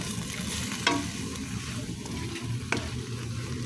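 A pan of pacham frying with green chili, stirred with a utensil. A steady sizzle runs throughout, and two sharp scrapes or clanks against the pan stand out, all close by with no talking.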